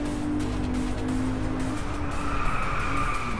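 A BMW race car engine in the video game Driveclub roars steadily while tires squeal in a long skid, a continuous close, loud racing sound with no voices.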